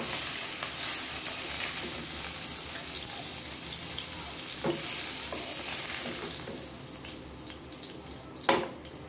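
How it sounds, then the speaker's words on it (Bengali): Rohu fish frying in hot oil gives a steady, close sizzle with faint scraping, a few sharper spatters, and one louder crackle near the end. "এই যে মাছ ভাজা হয়ে গেল"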